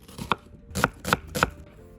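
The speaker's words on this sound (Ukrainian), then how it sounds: "Цибульку нарізаємо дрібно" Onion is finely chopped with a knife on a board for a Cossack-style field kulish, a few sharp, close chops, one alone and then three in quick succession, no voices.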